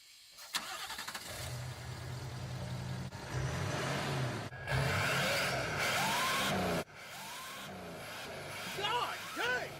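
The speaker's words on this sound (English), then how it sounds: "will you rev it up so I can hear the turbo whistle?" A diesel truck engine starts and revs in loud bursts, a rising turbo whistle climbing over the rumble, then cuts off abruptly before revving again, with people talking over it.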